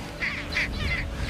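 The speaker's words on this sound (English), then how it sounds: "This bird that's shouting is obviously defending a territory" A seabird on Foula, Shetland, calling while defending its territory, giving three harsh, nasal honking shouts in quick succession over a low background rumble.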